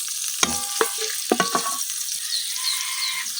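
Hot oil sizzles and crackles steadily as green chilies fry, with a few sharp pops and spoon scrapes as they are stirred in a pan, no voices.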